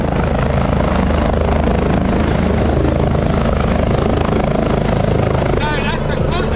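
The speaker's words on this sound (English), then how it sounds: "That's the closest I've ever been to a helicopter besides Call of Duty and Grand Theft Auto." A helicopter flies close overhead at night downtown during a bike ride, its loud, steady rotor thump and engine roar filling the whole stretch, with voices briefly audible near the end.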